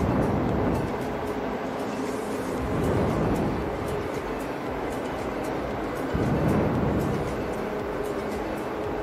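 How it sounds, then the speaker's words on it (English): Steady broadband machinery roar inside the engine room of an offshore supply vessel with DP-1 systems and generators, a dense continuous hum and rumble with slight swells in loudness, no clear speech. "Now we are entering in the engine room."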